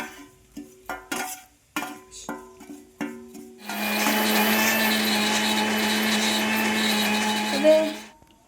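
A mixer grinder turns cooled coconut into a paste, starting after a few seconds of short sounds and talk into a loud, continuous whirring roar that runs steadily for several seconds before cutting off.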